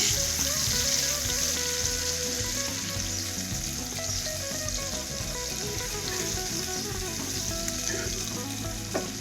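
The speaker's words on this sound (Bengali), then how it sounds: "ওই একই তেলে এখন একটা মিডিয়াম সাইজের পেঁয়াজ কুচি দিয়ে দিচ্ছি। আর এই পেঁয়াজ কুচিটা দিয়ে বেশ কিছু সময় ধরে এটাকে আমি ভেজে নেব।" Chopped medium onion frying in hot oil, a steady dense sizzle that holds loud and close throughout, with faint stirring and background kitchen tones underneath and no talking.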